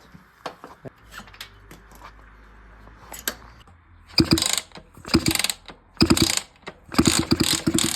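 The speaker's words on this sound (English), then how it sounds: "Now the cylinder should just be able to pull out." Metallic clicks and scraping as the cylinder is pulled off a 50cc Rieju MRT moped engine during a 70cc conversion, sparse taps at first, then bursts of louder rattling clatter, with no talk.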